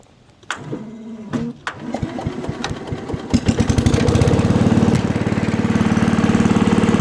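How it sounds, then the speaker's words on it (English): A Wheel Horse 875 Wheel-o-matic hydrostatic riding lawnmower, after sitting for years, cranks briefly with a few clicks and knocks, catches, then settles into a loud, close, steady chugging idle. "Start it up."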